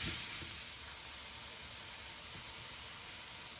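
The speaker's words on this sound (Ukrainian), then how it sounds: "І отак хай хвилинку з морковкою піджариться." A soft, steady hiss and gentle sizzle of carrots frying in a pan for borscht, fairly quiet and even throughout, with no speech.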